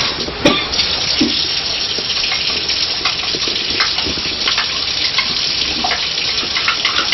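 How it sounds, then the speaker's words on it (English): Tap water pours steadily into a pan while gravy is made for noodles and roast beef in a home kitchen, a loud, continuous splashing stream with faint clinks. "Just a little bit more water to make gravy"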